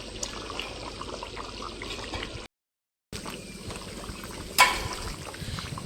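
Water is poured into a cooking pot in a village home kitchen, a soft, faint liquid trickle and splash broken by a brief silent gap and one sharp clatter near the end.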